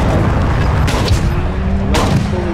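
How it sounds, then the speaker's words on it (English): Two sharp, loud shotgun blasts go off about a second apart in a Call of Duty match, each a sudden broadband crack with a short tail over a steady game background. "you have to keep killing them with those shotguns"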